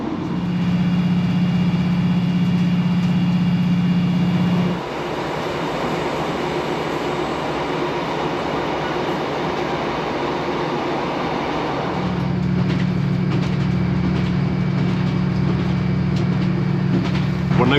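A ScotRail train runs across open moorland at Rannoch Moor, its steady rail rumble and wheel drone continuous throughout, with a strong low hum that drops away briefly midway before returning.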